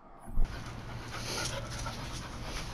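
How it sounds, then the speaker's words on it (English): A small pet dog named Lucky panting steadily and close by, quick rhythmic breaths running through the whole stretch with no voices. "here's 2 minutes of footage of my dog Lucky"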